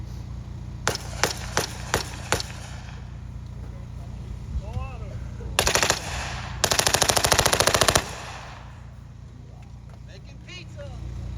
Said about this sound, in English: Firing M50 Ontos.